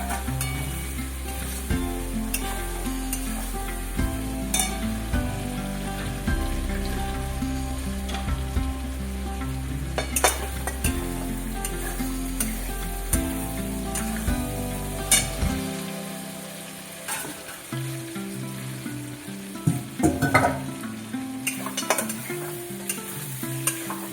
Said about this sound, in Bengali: এবার বন্ধুরা আমি এর মধ্যে আলু দিয়ে দিচ্ছি, সিদ্ধ করা আলু।